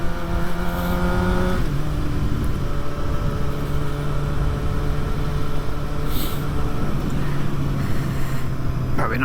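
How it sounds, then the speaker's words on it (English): A 600 cc sports motorcycle revs high through town, its engine note climbing and dropping in loud, close-up rising tones with a steady buzzing drone underneath. "High revving through town on the little 600."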